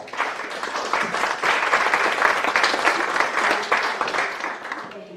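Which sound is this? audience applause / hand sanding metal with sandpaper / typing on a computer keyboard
audience applause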